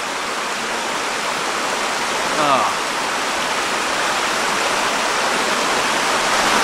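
A creek rushes steadily past old ruins in Pine Grove Furnace State Park, Pennsylvania, a loud close broadband wash of flowing water throughout, with a brief spoken exclamation in the middle.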